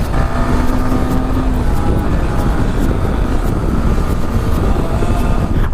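Kawasaki Ninja ZX10R motorcycle cruising in top gear, a steady engine drone mixed with heavy wind rush, continuous and loud throughout with no talking.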